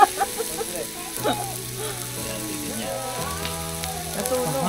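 Mushrooms sizzling and being stirred in a hot pan while cooking steak, with a steady frying hiss and occasional scraping, and people talking over it.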